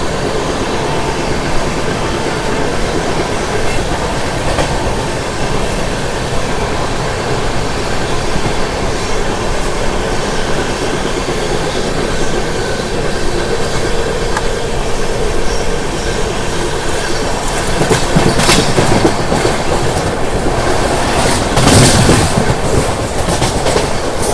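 A passenger train runs through Khammam railway station without stopping, a loud continuous rumble and rattle with clattering wheel beats that sharpen and grow louder toward the end.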